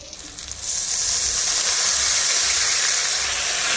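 Water poured into hot fried masala with fried fish gives a loud, steady hiss and steam sizzle, swelling after a brief quieter start and holding strong throughout.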